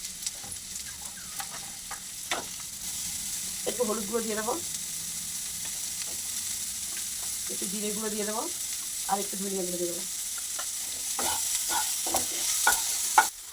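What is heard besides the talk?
vegetables frying and being stirred in a pan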